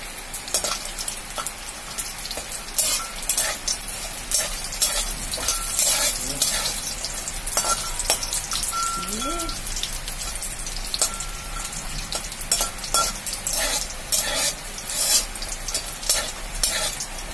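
Lentil bori dropped into hot mustard oil fry with a steady, close crackling sizzle, broad and continuous with small pops throughout and no talking.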